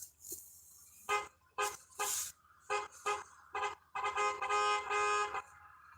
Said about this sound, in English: are you in that car back there honking at me?